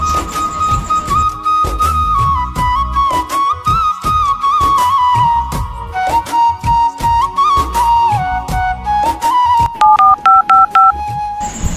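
A phone call being dialed, a steady run of electronic keypad and dialing tones that shift in pitch, loud and close, with no voices.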